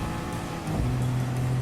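A Porsche 911 Turbo (930) engine hums steadily in the racing game Gran Turismo Sport, rising in pitch and loudness midway as the car accelerates.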